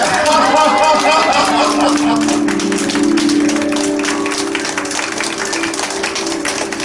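A church congregation claps during a revival service, steady dense clapping filling the space with a sustained musical tone underneath and some voices mixed in.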